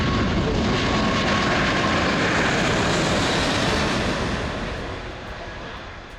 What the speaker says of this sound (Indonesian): Airbus A380 ditenagai 4 mesin Rolls-Royce Trent 900